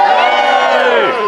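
A crowd at a Christmas village event erupts on cue in a loud, close burst of cheering and whooping, many voices shouting together for about a second before trailing off.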